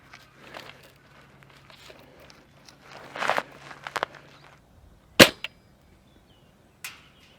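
A Novritsch SSG96 airsoft sniper rifle, fitted with a new barrel and hop-up, fired outdoors at distant range targets: a sharp, close snap after some rustling movement, then a fainter click a moment later.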